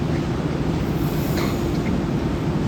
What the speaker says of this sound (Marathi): आता ही मेट्रो गेली